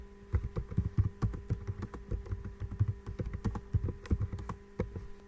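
A button name typed on a computer keyboard, with rapid, uneven clusters of close keystroke clicks and no talking.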